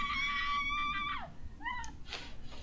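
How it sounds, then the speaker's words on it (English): A blood-curdling scream in the Heavy Rain video game: a loud, sustained high wail that holds steady and then slides sharply downward, followed by a shorter rising-and-falling cry and faint noise. "Figured a blood-curdling scream would help."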